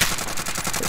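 Rapid automatic gunfire rattles in a fast, continuous burst during a Call of Duty: Warzone battle royale match, loud and dense for under a second.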